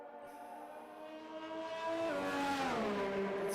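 Formula 1 race cars at the Canadian Grand Prix drive under safety car conditions, a steady high engine whine building as one car accelerates past, pitch rising then dropping as it goes by.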